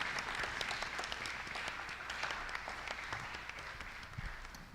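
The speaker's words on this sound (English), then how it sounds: "Don't stop clapping until he gets here." Applause from a conference audience at an employability summit greets a speaker walking onto the stage, a sustained, even wash of many hands clapping at moderate distance, fairly quiet and without voices.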